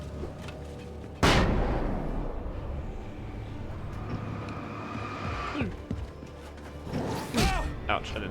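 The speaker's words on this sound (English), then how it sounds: "Flashbang." A flashbang grenade goes off in the Alan Wake video game with one sudden loud bang and a rumbling decay, followed by game noise and a later whooshing burst, while a person talks over it.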